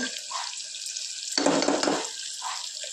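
Black-eyed peas, curry leaves and onions fry in hot oil, a soft close sizzle that swells into a louder burst of crackling before settling back, with no talking.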